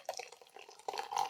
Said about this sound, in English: So we're going to try for a bit of an aggressive pour.